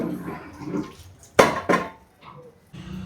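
Biryani-style Sylheti akhni stirred in a large pot, with a couple of loud metallic scrapes and clanks amid softer wet shuffling, close up, between brief quiet gaps.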